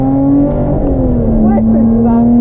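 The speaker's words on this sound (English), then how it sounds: "Listen to that engine though!" A Lotus Exige Cup 430 engine drones at a loud, constant pitch with a slight dip and rise, close and continuous, revving on a test track.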